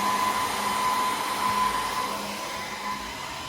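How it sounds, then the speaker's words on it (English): A Dell R720 server fitted with NVIDIA P100 and P40 GPUs roars under heavy load, its fans blowing a loud, constant broadband whoosh with a faint steady whine. The noise runs alone and without pause. "A lot of noise from the server."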